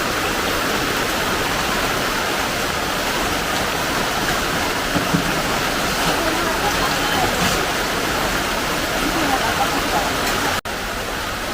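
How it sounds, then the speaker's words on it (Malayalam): A sudden heavy rain shower pours down, making a dense, steady roar of falling water that stays loud and even for the whole stretch before it briefly cuts out near the end. "പെട്ടെന്ന് ഒരു മഴ പെയ്തു."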